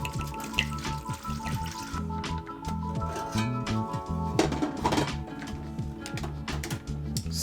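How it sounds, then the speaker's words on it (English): Bourbon poured into a bag of trail mix in the video game PEAK, heard as close liquid splashing and trickling with crinkly rattling of the mix, accompanied by continuous busy background music. "I'm just going to pour my bourbon directly into my bag of trail mix"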